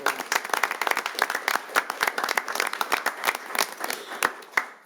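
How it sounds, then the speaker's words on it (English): A round of applause fills a city council meeting, with many hands clapping in a dense, uneven patter at moderate loudness that thins out toward the end. "So can we have one more round of applause for these great employees?"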